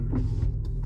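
Power windows on a 2005 Chevrolet Impala whirring as passenger and driver glass moves, a steady close motor hum under low cabin rumble, brief and continuous.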